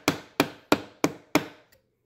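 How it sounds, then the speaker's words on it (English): Five evenly spaced, solid hammer blows strike close by, driving staples back into a couch, each sharp and loud, followed by a faint light tap. "like so, and then hammer them back."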